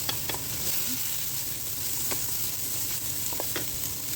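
Chicken breast fries in a pan with a steady, close sizzle and occasional light clicks and pops.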